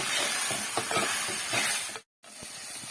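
Okra is stirred while sautéing in a pan, a close hissing sizzle with repeated scraping and tapping of the spoon, cut by a brief silent gap before the sizzling resumes, with no talk.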